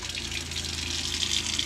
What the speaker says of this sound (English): Water pump works great.